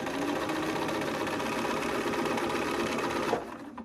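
A sewing machine runs steadily, stitching a quilt block seam, with a dense continuous mechanical whir close by that stops abruptly near the end.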